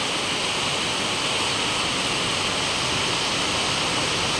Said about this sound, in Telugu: ఇంత భారీగా పడుతున్నాయంటే వర్షాలు